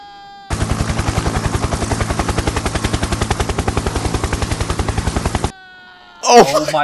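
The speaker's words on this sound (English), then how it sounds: "oh my, the helicopter!" A helicopter's rotor chops loudly in a fast, even thumping rhythm for about five seconds, then cuts off abruptly, and a short burst of voice follows.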